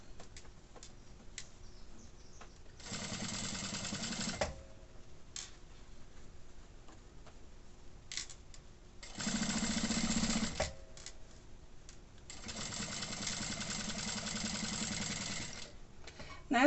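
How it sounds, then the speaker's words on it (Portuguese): A sewing machine stitches fabric and lining in three sustained runs of a few seconds each. Short pauses with small clicks and handling noises fall between the runs. "eu já gosto de passar umas costurinhas de segurança, fixando essa parte aqui também"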